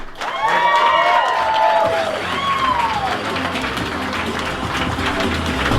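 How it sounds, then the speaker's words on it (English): Crowd at a wedding reception claps and cheers for the bridesmaids as they are brought up, a loud, dense burst of applause and whoops that holds steady throughout, with a voice speaking over it early on. "Big round of applause for Carol, Jamie, and Lindsay."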